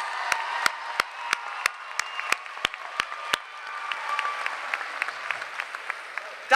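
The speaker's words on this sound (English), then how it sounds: "Let's give our graduates another round of applause." Audience at a high school graduation ceremony gives graduates a round of applause, steady crowd clapping with a few sharp, loud claps standing out close by, continuing for several seconds with no speech.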